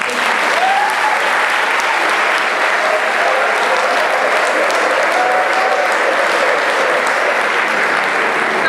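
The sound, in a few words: audience applause at a closing ceremony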